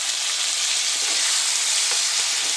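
Curry leaves and vegetables sautéing in a pan give a constant, dense sizzle up close, with a few faint stirring touches in the steady hiss.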